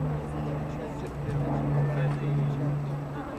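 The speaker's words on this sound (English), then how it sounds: "Something about the sound of a Lancaster." Avro Lancaster bomber engines at the Farnborough International Airshow 2010, a steady, deep droning hum that swells slightly, heard at a distance under people talking.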